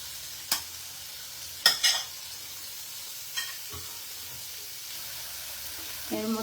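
Grated Amul paneer fries in melted butter in a pan for a paneer cheese sandwich. A soft, steady sizzle hisses underneath a few sharp spatula clinks and scrapes spread through the stretch.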